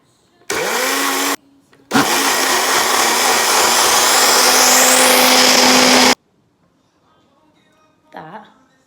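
Blender whirring loudly as it purees a spicy peri peri chicken marinade with oil and coriander, a short burst followed by a longer steady run of about four seconds, then stopping abruptly before a brief voice.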